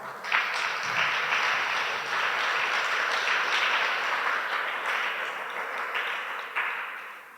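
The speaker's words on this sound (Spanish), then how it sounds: "Denle un aplauso al Señor." A church congregation applauds together in a sustained, dense wash of clapping that starts abruptly, holds steady for several seconds and tapers slightly at the end, with no voices over it.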